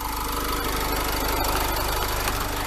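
Knocking from the engine of a Ford Transit van, a steady, loud mechanical rumble with a rapid repetitive tapping that runs continuously throughout, close up and with no voices.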